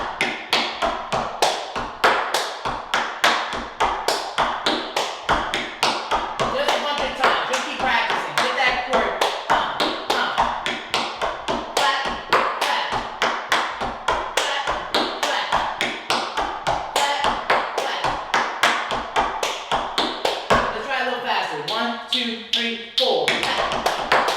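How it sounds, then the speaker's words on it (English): Rhythmic hand claps and taps repeat steadily throughout, close and crisp, in a patterned tap-dance beat with occasional thuds. "Clap, clap."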